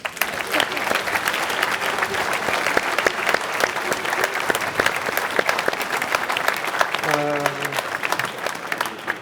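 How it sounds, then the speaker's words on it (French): Steady audience applause at a New Year's greetings ceremony, dense clapping throughout at even loudness, with a brief tonal beep near the end. "On les applaudit."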